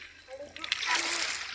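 Sea water splashes and sloshes as someone swims at the beach, a soft wash that builds into a loud, sustained spray of splashing over the second half, with voices mixed in.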